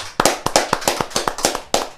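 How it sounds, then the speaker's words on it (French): An audience at a Bible quiz game applauds a contestant with sharp, separate claps in a fairly even rhythm, sounding like only a few hands, close and clear, with no talk. "applaudissez encore pour Alain"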